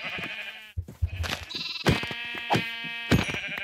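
Sheep in Minecraft bleat repeatedly in short, wavering calls, several overlapping over a low game backdrop, fairly clear and close.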